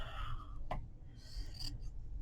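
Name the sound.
cutting material down to size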